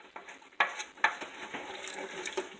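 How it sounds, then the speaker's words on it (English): Scraping and clinking as a cooking pot with burnt-on hamburger and spice residue is scrubbed and washed, a few sharp metallic knocks over a steady wet rubbing, close and fairly quiet. "So I've going to wash my pot because all that hamburger and all that spice that was burning on the bottom"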